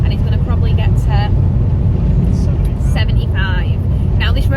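A car passes a van on the Nullarbor highway: a loud, steady roar of road and wind noise fills the whole stretch, with voices murmuring faintly beneath it.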